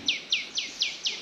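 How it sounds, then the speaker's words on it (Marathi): A bird in a village in the morning gives five sharp, high descending chirps, evenly spaced and fairly close, over quiet background. "पक्षी बघा वेगळे ओरडतात आहे"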